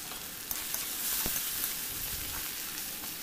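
Semiya (vermicelli) frying with turmeric powder in a pan, a steady close sizzle with faint crackles and occasional stirring scrapes throughout, no talking.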